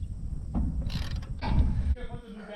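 A hand ratchet wrench turns a bolt on a hay rake out in a field, giving a few close clicking and creaking bursts with rattling metal.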